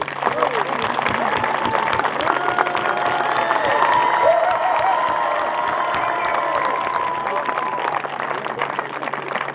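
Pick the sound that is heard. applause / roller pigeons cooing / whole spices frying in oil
applause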